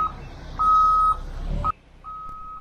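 A concrete truck's reversing alarm sounds as the truck backs toward a building door for a floor pour: a few steady high-pitched beeps, one long tone in the middle, over a low engine rumble that drops away near the end.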